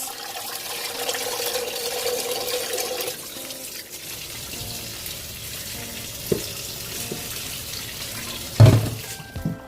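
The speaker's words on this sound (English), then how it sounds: "And then run some cold water through it." Steady rush of cold tap water pouring over drained spaghetti in a sink for several seconds, with a few clanks and a louder knock near the end.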